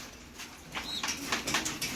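A young racing pigeon flaps its wings in a few quick, soft bursts close by, with faint background ambience and no talk.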